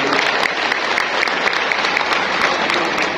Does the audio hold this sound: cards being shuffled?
no